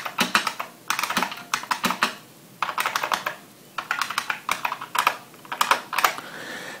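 Someone types on an IBM Model M Space Saver buckling spring keyboard, producing crisp, loud clicky keystrokes in rapid bursts separated by short pauses, close and alone.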